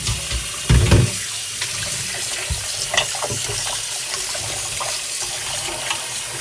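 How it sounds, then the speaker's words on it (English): Tap water runs into a kitchen sink while a whole chicken is rinsed, a steady close splashing hiss with a few heavier gushes and thumps near the start, then an even flow with small shifts as the bird is moved under the stream. "Running water."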